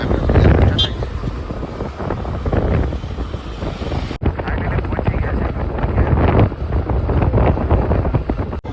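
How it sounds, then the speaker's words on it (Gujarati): Constant roar of wind buffeting a microphone while riding a motorcycle toward Patan, Gujarat, with engine rumble underneath and voices talking now and then. "મારો ભાઈ બાઈક હાંકે છે"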